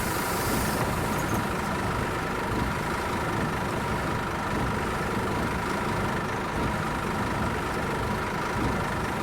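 A bus engine idles steadily in a low, continuous rumble with constant road-like noise and no change in level throughout, heard from inside with no talking.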